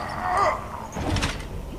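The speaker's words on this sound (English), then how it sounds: "We can use this rib opening thing to open the elevator doors." Heavy metal elevator doors being forced apart with a rib-spreading tool in The Walking Dead video game, a loud scraping, grinding slide with thuds, heard close.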